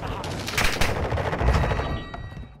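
Rapid automatic gunfire from a Modern Warfare 2 multiplayer match, heard as dense close bursts of shots, with a voice under the firing.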